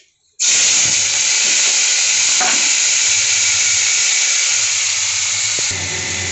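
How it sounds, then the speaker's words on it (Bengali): Prawns frying in hot oil: a loud, close, continuous sizzling hiss that starts abruptly and holds steady throughout, with a couple of faint clinks and no voices. "চিংড়ি মাছগুলো আমি ভেজে নিচ্ছি।"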